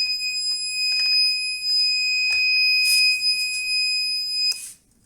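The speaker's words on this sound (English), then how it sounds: "the alarm is going off" A water level sensor's alarm sounds steadily as its probes sit out of water, holding a continuous electronic tone with a few brief bursts of added noise before cutting off near the end.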